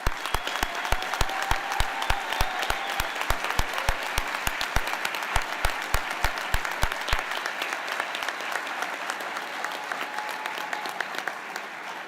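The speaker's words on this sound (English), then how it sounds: "we'll give you a round of applause in appreciation for all that you do" A graduation-ceremony audience applauds the standing faculty with sustained, even clapping from a large crowd, with sharp nearby claps rhythmically prominent through the first half before the applause thins slightly.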